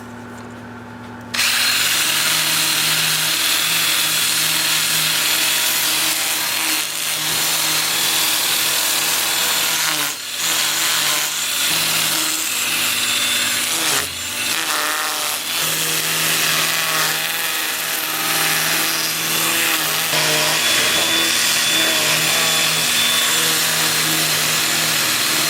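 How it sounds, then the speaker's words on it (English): Mulberry wood on a lathe spinning in reverse at about 325 RPM is sanded with a 2-inch disc, producing a steady, loud, continuous abrasive whir and hum that runs almost unbroken for the whole stretch, with brief dips in intensity. "I'll switch to my 2-inch disc starting at 80 grit with the lathe spinning in reverse at about 325 RPM, and I'll sand up through 400 grit"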